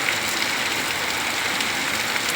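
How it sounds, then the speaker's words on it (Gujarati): Heavy monsoon rain pours steadily in Bhavnagar district, Gujarat, making a dense, even hiss that holds at the same close, loud level throughout, with no voices. "ખૂબ જ સરસ વરસાદ છે"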